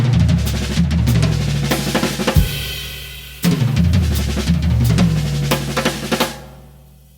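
A fast drum tom run in 32nd notes, played two strokes on each drum, rolls loudly and densely. It pauses briefly in the middle, then a second run follows and fades into its decay.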